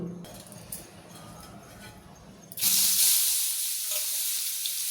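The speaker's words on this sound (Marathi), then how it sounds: "आता आपण याला फोडणी देऊ" Quiet kitchen sounds, then a sudden loud sizzle as tempering spices hit hot oil, the hiss continuing strongly and steadily afterward.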